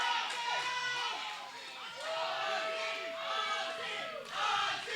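Wrestling arena crowd at an EPW live event roaring and chanting loudly together, a dense sustained wall of voices with rising, rhythmic swells.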